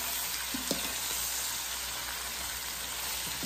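A Cornish hen sizzles steadily in an Instant Pot Dutch oven, with a couple of faint scrapes as it is stirred; the frying hiss stays constant and close throughout.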